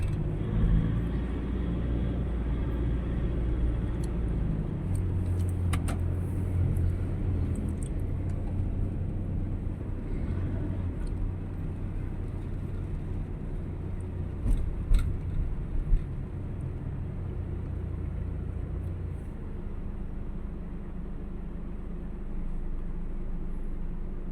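Road traffic rumbles past in a steady low drone of cars driving, with a few brief clicks and a louder swell midway, no speech over it.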